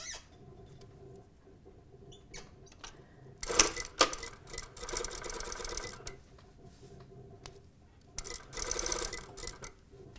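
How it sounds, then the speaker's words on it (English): A domestic sewing machine stitches down a French bind on a hem, whirring in several bursts of rapid ticking separated by short pauses, close and fairly quiet. "I'm going to stitch the bind down."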